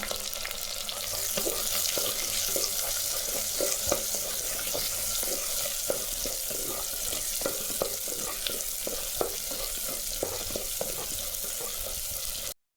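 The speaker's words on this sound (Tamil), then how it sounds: "சின்ன வெங்காயங்க நல்லா ஒரு நூற்றி ஐம்பது கிராம் தோல் வச்சு கட் பண்ணி வச்சுக்கிறோம் அதையும் சேர்த்துக்கலாம் இது நல்லா வதக்கலாம்" Peeled, cut small onions sauté in a pan with a dense, even frying hiss throughout, punctuated by irregular spatula scrapes and taps, close up and with no talking, ending abruptly.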